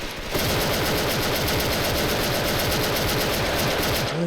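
Tiger Galil rifle firing in the video game Special Force, a loud, continuous stream of rapid automatic gunfire with a dense rattling rhythm that runs without a break after a brief quiet start.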